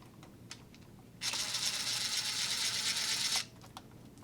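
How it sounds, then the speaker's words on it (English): A T15 Torx bit turns a screw out during a light install on a DeWalt DWS782 miter saw: one quiet, steady ratcheting whir of about two seconds, with faint clicks before and after. "you can pull off either one of these here using a T15 Torx bit"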